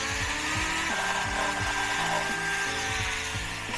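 A power drill fitted with a tiny drill bit whines steadily and close, its pitch dipping repeatedly as the motor bogs under load, with no one talking.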